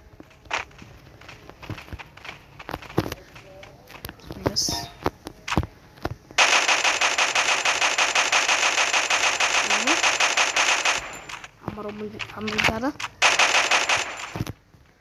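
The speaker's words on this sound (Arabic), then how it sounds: "صوت ضرب" Bursts of rapid automatic gunfire from the game Free Fire Max, with single shots and long sustained volleys. Voices talk intermittently between the bursts.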